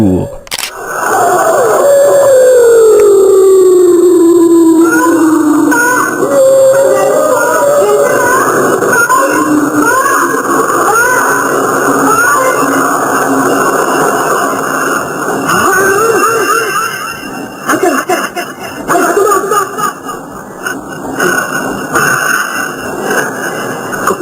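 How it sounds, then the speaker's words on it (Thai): Loud, eerie wailing and moaning voices with warbling, sliding tones over a distorted, noisy background: a ghost-sound recording the United States used as psychological warfare against Vietnamese soldiers, played at full volume. "ถ้าไม่เชื่อนี่คือเสียงผีที่สหรัฐอเมริกาใช้หลอกทหารเวียดนาม"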